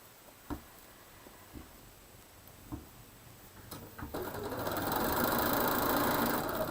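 A sewing machine stitches quilt fabric, starting after a few faint clicks and handling sounds, then speeding into a steady, fast whirring hum that continues to the end.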